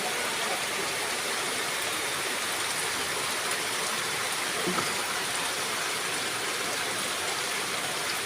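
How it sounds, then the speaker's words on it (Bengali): Heavy rain pours steadily onto a waterlogged field on a morning, heard from a distance as a dense, unbroken hiss with no pauses. "এইভাবে বৃষ্টি হচ্ছে।"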